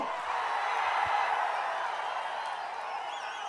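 A large crowd at a political rally roars and cheers in a dense, sustained wash of voices, loud and close, with whoops poking through the steady din.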